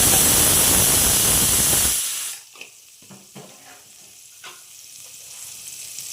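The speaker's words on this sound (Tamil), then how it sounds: "எண்ணெய் சூடானதும் பன்னீர் எல்லாம் போட்டு ஃப்ரை பண்ணி எடுத்துக்கலாம்" Paneer drops into hot oil in a kadai with a loud, close burst of sizzling and spattering for two seconds, then settles to a quieter crackle with occasional pops. No voices.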